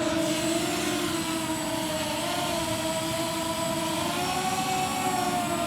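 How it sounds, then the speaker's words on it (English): A Yuneec Breeze camera drone takes off and hovers about two feet up, its propellers giving a steady, loud, close whine with a constant tonal hum and no break. "in order to start this up, I can just push the takeoff button here. This is going to automatically hover to about 2 feet."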